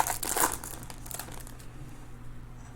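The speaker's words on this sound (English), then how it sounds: "Let's start busting foils." Foil baseball card packs, 2020 Topps Series One Jumbo, are torn open up close with loud crinkling and ripping that fades into softer rustling.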